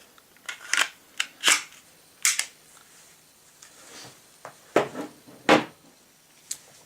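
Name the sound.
Glock 26 and 36 pistols being reassembled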